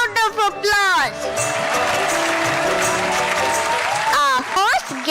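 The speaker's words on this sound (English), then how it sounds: "Let us welcome the Indian artisans on stage with a round of applause." An audience gives a sustained round of applause welcoming Indian artisans onto a stage at a school event. Steady clapping fills the middle seconds, with a voice heard speaking before and after it.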